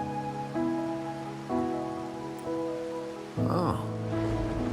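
Rain falls steadily in the video game Wuthering Waves, a soft continuous hiss beneath layered tonal game music.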